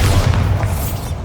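A Bombarda explosion spell cast in the video game Hogwarts Legacy, inside an abandoned mine, gives a deep, booming rumble that stays loud and steady for just over a second with no pause.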